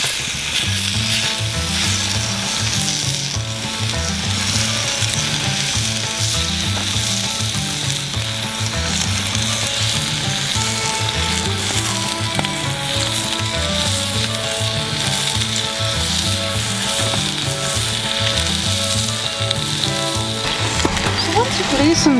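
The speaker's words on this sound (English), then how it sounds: "Now let's add our bacon to our skillet." Chopped bacon squares sizzle and fry steadily in a skillet, a dense continuous crackle at close range with a loud rhythmic pulsing underneath, and no speech throughout.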